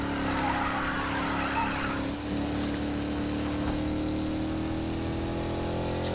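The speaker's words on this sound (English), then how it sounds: "Yeah, I'll drift this one for you." A car drifting in a racing video game, tires squealing in a long sustained skid over steady engine drone, loud and continuous with no talk.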